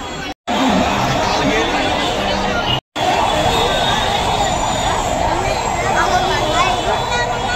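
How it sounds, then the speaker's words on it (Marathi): A large crowd fills a Mumbai Ganpati pandal late at night, a dense continuous babble of many voices close and loud, briefly cut twice by short gaps. "रात्रीचे 1 वाजला आहे, तर बघा किती गर्दी आहे"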